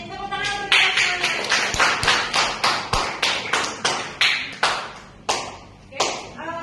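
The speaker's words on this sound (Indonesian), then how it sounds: "Tepuk tangan untuk kita semuanya." A classroom of students claps together in a steady, rhythmic beat at a teaching practice session, the sharp claps repeating about twice a second for several seconds, with a faint voice in the background.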